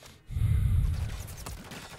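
Gunfire in Call of Duty: Modern Warfare III, a sudden loud low burst that booms for about half a second, then tails off into a rumbling decay.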